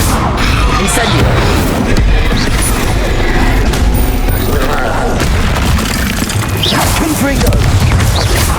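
The Incendio fire spell is cast in Hogwarts Legacy with loud, continuous whooshing and booming bursts of flame and crackling impacts, dense and unbroken, with game effects layered throughout.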